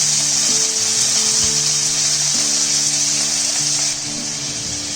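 Curry leaves and pearl onions crackle and hiss loudly in hot oil for a bisi bele bath, a dense, continuous sizzle with a low steady hum underneath.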